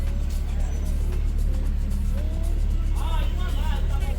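Cars crawling in heavy road traffic, a constant engine and road rumble close by with a few faint higher squeaks and tones over it, no clear single pass.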